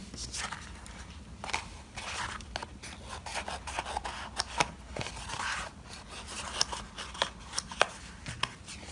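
Scissors cutting a round shape out of paper for a preschool craft, close and quiet, with repeated rasping snips and rustling in an uneven rhythm.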